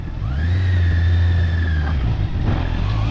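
Motorcycle engine climbing a steep forest trail, loud and close, revving high and holding a strained note before easing off, with a brief second rev near the end.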